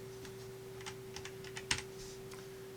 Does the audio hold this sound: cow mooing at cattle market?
no